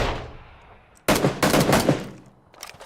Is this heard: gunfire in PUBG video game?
yes